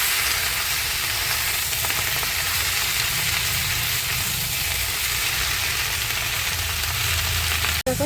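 Red amaranth greens sizzle and crackle in a hot frying pan, a loud, continuous frying hiss with faint stirring scrapes, ending in a brief clatter.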